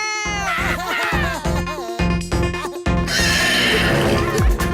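A cartoon horse neighs loudly and close up. Several shrill whinnies run back to back, ending in a rougher snort with a faint clatter.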